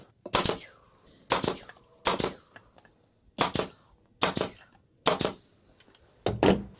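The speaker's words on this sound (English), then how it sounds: "And one staple in there." A staple gun fires into Chevy Nova headrest upholstery: six sharp, loud snapping shots spaced roughly a second apart, each crisp and close with a short decay, and near-silence between them.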